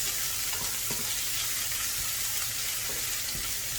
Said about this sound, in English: we'll put the onion in, and you want to cook it for about 2 minutes